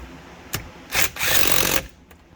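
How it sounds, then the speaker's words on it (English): A hand ratchet snugs bolts on a Yamaha GP760 waverunner during a top-end rebuild, with a short click and then a quick burst of ratcheting strokes up close. "Hit them again real quick with a hand ratchet just to make sure they are good and snug."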